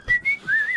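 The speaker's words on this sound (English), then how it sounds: "I'm concentrating on whistling." A person whistles a short, wavering tune up close, the notes sliding up and down in a couple of brief phrases.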